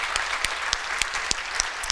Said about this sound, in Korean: 우리 수고한 모든 분들에게 한번 박수로 우리 격려합시다.